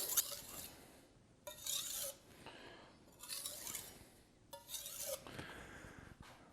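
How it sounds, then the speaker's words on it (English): A Dalstrong 8.5-inch kiritsuke knife is drawn across a whetstone in four gritty, rasping strokes separated by short pauses, close and clear. "It's gliding across the whetstone."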